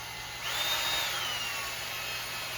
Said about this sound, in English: I'm going to drill the other one right here.